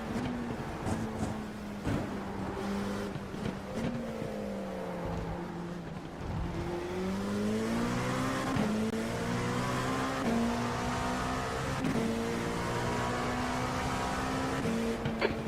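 LMP2 prototype race cars at Le Mans in a racing video game whine steadily, the engine pitch climbing and dropping through gear changes as the car accelerates, with no talking.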